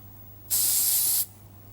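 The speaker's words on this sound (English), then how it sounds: "Now, I've got some cooling spray here. I'm just going to see if it goes off." A single sharp hiss of aerosol spray lasting under a second, close and loud, over a quiet low hum.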